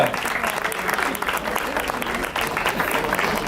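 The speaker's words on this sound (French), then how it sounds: "On peut l'applaudir très fort" A crowd applauding a prize winner at the awards ceremony of a 10 km road race in Castelsarrasin, sustained clapping from many hands, fairly near and even, with voices mingled in.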